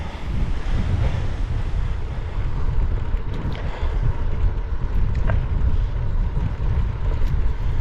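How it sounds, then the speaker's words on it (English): Strong wind buffets and roars across the microphone continuously during an outdoor half marathon run, a heavy, rumbling gusty noise with no voices. "Whoa, windy."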